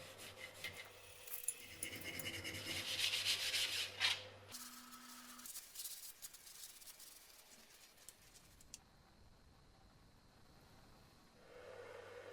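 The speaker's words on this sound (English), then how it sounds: "removed the strip paint with a steel wire brush" A steel wire brush scrubs stripped paint off a vintage 1970s drill body, a faint, gritty rubbing and scraping in irregular strokes, with occasional metallic clinks and quieter stretches.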